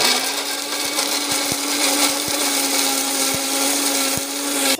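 A kitchen mixer grinder blends chutney in a loud steady motor whine, with sharp regular knocks from the ingredients hitting the jar as it runs, then stops at the end.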